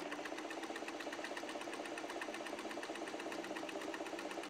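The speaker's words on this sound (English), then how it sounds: "sew those units together like this" A sewing machine stitches quilt block units together, running at a steady fast rhythmic pace with a continuous mechanical chatter, close and alone without talk.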